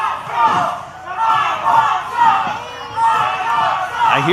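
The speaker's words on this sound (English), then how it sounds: "All I hear is Icon sucks" A large arena crowd at a professional wrestling match chants "Icon sucks" in a loud, rhythmic, repeated call, voices swelling and falling together in a big echoing space.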